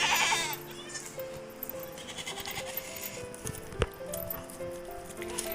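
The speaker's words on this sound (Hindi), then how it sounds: "ये सारी बकरियां हमारी है।" Goats on a farm bleat several times over a noisy outdoor background, with some voices present; the calls are moderately close and intermittent.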